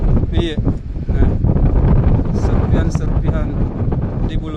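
Strong wind buffets the microphone atop Mount Bulusaraung during a search for the wreckage of an ATR aircraft, a loud continuous roar with brief voices mixed in.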